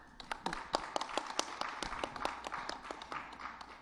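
Small audience clapping after a spiritual discourse, a sparse irregular patter of hand claps, fairly faint and roomy, lasting a few seconds.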